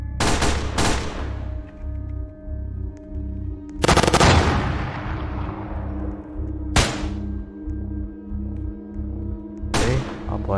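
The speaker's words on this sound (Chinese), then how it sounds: "不知道那个机枪炮塔有没有被启动" A machine gun turret in Roblox SCPF, Area Omega, fires several sharp, loud bursts spaced a few seconds apart, each ringing off with a decaying echo, over a steady pulsing low mechanical rhythm.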